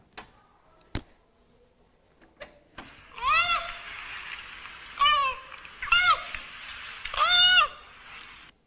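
Recorded giant panda cub calls played back at a panda museum exhibit: four bleating, goat-like squeals at a steady spacing, each following a few faint clicks.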